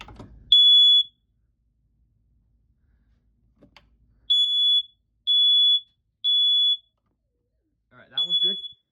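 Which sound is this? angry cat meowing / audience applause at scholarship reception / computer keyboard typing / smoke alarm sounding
smoke alarm sounding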